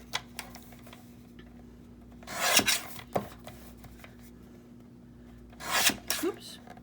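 Scissors or a trimmer cutting craft paper for a neutral folio built from Tim Holtz Halloween backdrops, heard as two separate rasping cuts with quiet handling noise between them.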